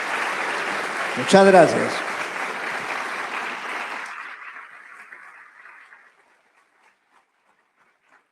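An audience applauds an author at a book conversation. The clapping is loud and dense for about four seconds, then thins out and fades by six seconds while a voice briefly thanks them.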